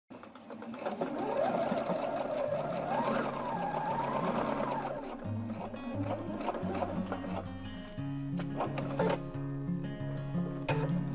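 A sewing machine stitches a mitred hem corner in fabric. Its close, loud mechanical whir runs in bursts, speeding up and slowing between short pauses.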